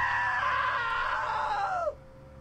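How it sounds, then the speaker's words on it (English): A loud, sustained scream in the video game What Remains of Edith Finch holds strong for nearly two seconds, then bends downward and cuts off abruptly, leaving quiet room tone. "Now that was a great scream."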